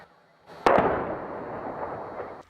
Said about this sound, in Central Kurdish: نزیکەی مانگێکە دەنگی تۆپ و تانک بەشێکن لە ژێیان ڕۆژانەی دانیشتوانەکەی